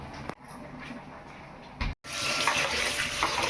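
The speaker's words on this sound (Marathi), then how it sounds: "आता हे पाणी काढायला गेलं ना तर जरा एकदा अजून धुवून घ्यायचं" Water runs from a tap into a pot while rice is washed for prawn biryani. The flow breaks off briefly before it resumes as a loud, continuous gush, and no one speaks.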